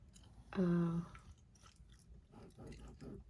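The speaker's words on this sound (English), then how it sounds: "Because I'm hungry, and if I chew gum," Close-miked gum chewing during a soft-spoken ASMR session: a brief vocal sound, then a few quiet, moist smacks and crunchy chews at an irregular pace.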